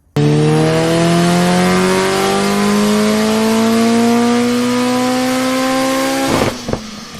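VW Transporter T5 van with a 1.9 TDI diesel engine revs hard on a rolling road, a loud continuous drone rising steadily in pitch for about six seconds before cutting off abruptly, followed by a couple of faint knocks.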